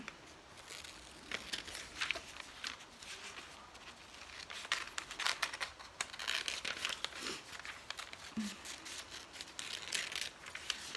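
Scissors cut paper pieces for a fish collage. Faint crinkling and soft snipping rustles continue quietly throughout.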